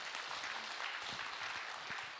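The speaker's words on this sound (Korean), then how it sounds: "박수로 맞으세요" Audience applause at a Buddhist monk's Q&A dharma talk, a steady wash of many hands clapping throughout, fairly loud and continuous with no voices standing out.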